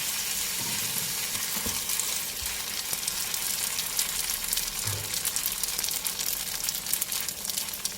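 Wide rice noodles stir-fried with pork in a hot pan, a dense continuous sizzle and crackle that stays loud and close throughout, with no voices.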